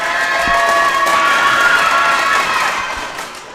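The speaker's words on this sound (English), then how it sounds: "Crowd getting all kind of rowdy in here." A rowdy crowd cheers and shouts at a district championship volleyball match between the Lady Devils and Comstock, loud and sustained throughout before easing off slightly at the end.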